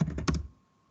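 A brief burst of typing on a computer keyboard: four quick key taps in a row, close and clear, fading out within half a second.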